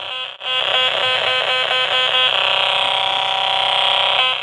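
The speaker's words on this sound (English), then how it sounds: "You will notice that the calculator beeps whenever you get close to the metal." A homemade metal detector built from a calculator and a radio gives off a loud continuous electronic tone that pulses rapidly at first, then settles into a steady high whine with a brief dropout near the start.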